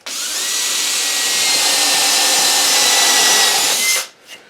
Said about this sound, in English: you want to use a countersink drill bit like this in order to do your pilot hole